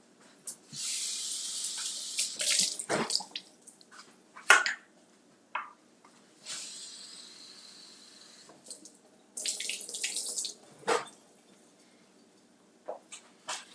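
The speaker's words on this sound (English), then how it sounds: "just washed our fruit" Tap water runs into a sink in bursts while strawberries are washed for a chaffle plate, with several stretches of steady splashing flow separated by pauses and clattering handling.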